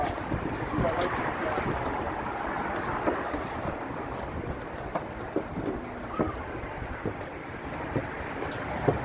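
Steady wind blows outdoors beside the Soo Line 730 steam locomotive, a constant broad rush with gusty buffeting on the microphone and a few faint knocks, no talking.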